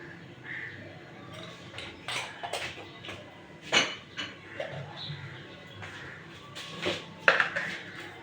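Lentils and a little turmeric going into a pot of hot water for Bengali masoor dal with raw mango, scattered clinks and knocks of a metal pot and spoon, close and moderately loud, with no talk.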